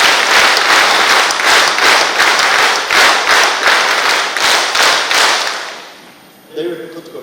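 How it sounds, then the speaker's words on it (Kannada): Applause from a standing audience at a community gathering in a large hall, a dense roar of many hands clapping with rhythmic surges for about six seconds, then fading out as a few voices and faint sounds follow. "ಒಮ್ಮೆ ಚಪ್ಪಾಳೆ ಸ್ಟಾರ್ಟ್."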